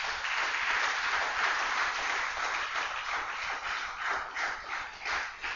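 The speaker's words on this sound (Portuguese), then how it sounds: "Dê uma salva de palmas a Deus" A church congregation claps continuously, a dense, steady wash of applause that fades slightly toward the end.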